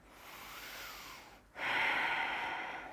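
A person takes a cleansing breath while lying in a yoga pose, with a slow, soft inhale followed by a louder, rushing exhale, close and alone with no talk.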